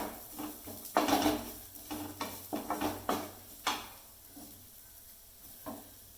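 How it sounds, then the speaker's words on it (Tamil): Onions and curry leaves fry in a pan for a quail egg fry while a spoon stirs and scrapes the metal, producing clattering knocks over a soft sizzle that fades toward the end. "வெங்காயம், கருவேப்பிலை, கொஞ்சம் நல்லா கிளறி விட்டுக்கிடணும்"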